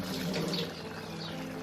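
Ground Gobindobhog rice paste thinned with water pours into a pot of bottle gourd, a short soft liquid splash and trickle, close and steady.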